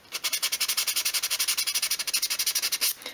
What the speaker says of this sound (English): use a fine grade sandpaper over the entire piece to prepare it for paint or varnish